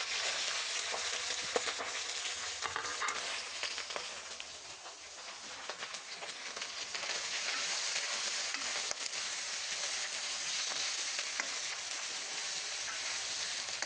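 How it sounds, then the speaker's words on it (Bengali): Dried boal fish fry in mustard oil with a dense, continuous crackling sizzle, loud and close, with scattered pops throughout and no talking. "এই সরিষার তেলের মধ্যে এই শুটকি মাছগুলি একটু দিয়ে একটুখানি রেখে নেব।"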